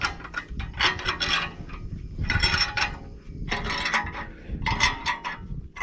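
Ratcheting wrench tightening a non-grade-8 bolt while replacing the track springs on a Cat 951 track loader, with repeated close clicking bursts of metal mechanism and rubbing in a steady back-and-forth rhythm.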